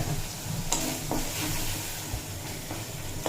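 Turmeric and Kashmiri red chili powder fry in oil in a pan for a raw papaya dish, giving a continuous moderate sizzle with a few scraping stirs.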